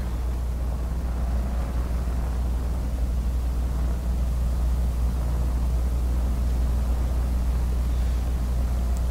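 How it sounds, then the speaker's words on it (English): Hummer H93 truck engine in the video game SnowRunner, a steady, heavy low-pitched drone with a broad rushing layer on top, constant in level with no pauses and no talk. "I love the way the Hummer sounds."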